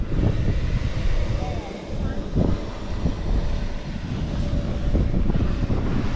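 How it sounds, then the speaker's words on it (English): Heavy wind buffets the microphone in a constant low rumble, gusting up and down throughout. "Well, it is a windy day"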